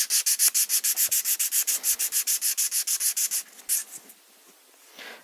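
Rhythmic sanding strokes on the edges of rifle prop parts, about twenty quick, even back-and-forth rubs at close range, slowing into a few scattered scrapes and then near-quiet with one last faint stroke.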